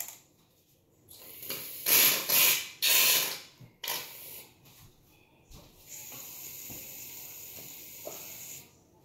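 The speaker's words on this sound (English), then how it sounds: "So, add the shaving cream." Shaving cream sprays from a pressurized can into glue for fluffy slime, in several loud hissing bursts with brief pauses, then a quieter steady hiss and small clicks of the nozzle.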